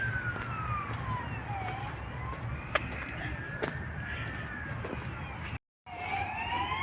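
A wailing ambulance siren sweeps up and down at a distance, steady and moderately loud across the clip, briefly cutting out before resuming.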